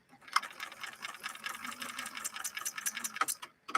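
Bernina Record 930 Electronic sewing machine stitching a zigzag, a rapid close mechanical ticking and whirring of the needle running steadily for a few seconds, starting and stopping abruptly.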